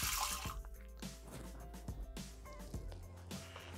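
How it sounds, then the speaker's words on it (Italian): Water poured into a Thermomix TM6 mixing jar for an octopus salad, a faint trickling and dripping with small splashes in a quiet kitchen, close but soft. "Iniziamo la ricetta mettendo all'interno del boccale l'acqua."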